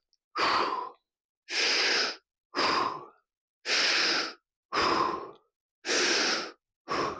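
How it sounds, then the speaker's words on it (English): Slow deep breaths during a guided anxiety release exercise, seven long breathy exhalations evenly spaced with silent pauses between, close to the microphone. "then 6 more deep breaths"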